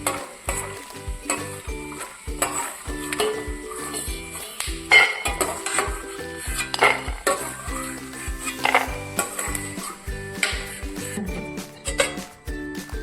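Fried peanuts being scooped out of hot oil in a pan while cooking for a Farali fasting thali, with scraping and clinking of a metal spoon against the pan over a steady sizzle, close and busy.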